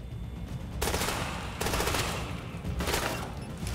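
Gunfire in the video game The Division during a boss fight, three sustained loud bursts of rapid automatic fire separated by brief gaps.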